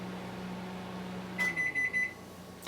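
After the rice finishes cooking, a microwave oven beeps three times in a quick, evenly spaced series, clear and close over a quiet kitchen hum.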